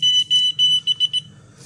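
A Radiascan-701 dosimeter sounds its alarm as a rapid series of high, piercing electronic beeps, about eight short pulses quickening toward the end, loud and alone.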